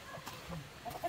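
A mix of chickens, including silkies, clucks in a coop in short, soft, scattered calls over a quiet, busy background.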